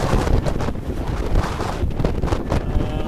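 Strong gusting wind, reading 33 on the instrument, roaring across the microphone aboard a sailboat beating back to the marina, loud and continuous with buffeting and water noise beneath.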